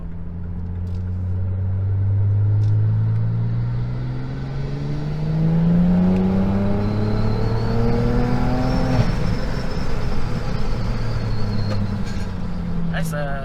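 A turbocharged stage 3 Opel Vectra OPC estate accelerates from inside the cabin, engine note climbing through the gears with a loud turbo whoosh and blow-off, while people talk over it.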